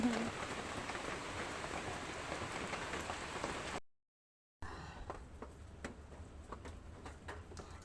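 Steady rain patters on a surface on a wet morning, a dense hiss broken by a short gap, then lighter, sparser drops with a few distinct ticks.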